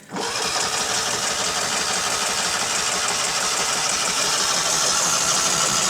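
A Ural motorcycle engine turns over on its starter in one loud, continuous churning run heard close up, with no break and no sign of catching.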